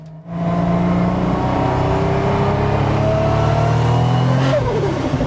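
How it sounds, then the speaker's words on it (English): A turbocharged 500 hp Toyota Cresta with a 1.5-way differential revs hard and loud close by, accelerating steadily with a rising drone and a brief fluttering turbo whoosh near the end. "It makes a fantastic sound. A nice turbo flutter."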